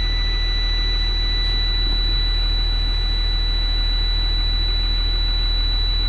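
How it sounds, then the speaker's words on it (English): A heavy vehicle's engine, likely a truck or bus, idles steadily while warming up and building air pressure, a constant low rumble with a thin high whine running through it the whole time. "So I'll come back when the engine's warmed up and the air is built up"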